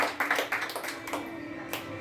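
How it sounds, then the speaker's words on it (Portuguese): A church congregation claps in uneven, scattered bursts, close and fairly loud, with a few sharp individual claps standing out before it thins. "Aplaude Jesus aí, ó."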